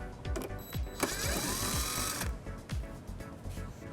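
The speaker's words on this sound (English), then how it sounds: "it exposes this screw that we'll remove using an 8mm socket" A power tool backs an 8mm screw out of the front bumper area of a 2017 BMW X5, whirring at close range in short bursts with a sustained high-pitched run in the middle, no voices.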